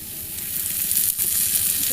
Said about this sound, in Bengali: তেল দিয়ে ভেজে নেবো